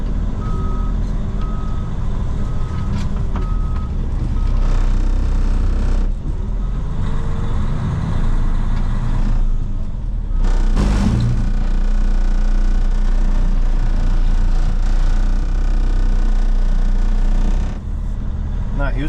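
A big truck backing up, its reversing alarm beeping in a steady rhythm over a loud engine rumble heard from close by, with a short hiss of air partway through.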